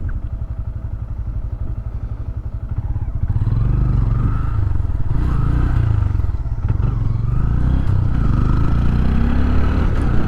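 A Honda Grom motorcycle cruises through Springfield, Missouri streets: a loud, close engine drone that swells as it speeds up, with wind rumble and faint clatter throughout.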